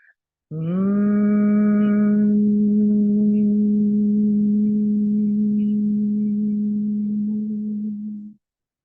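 A single steady hum on the exhale during a yoga breathing exercise. It is a close, sustained tone that holds for about eight seconds and then stops, with no talking over it.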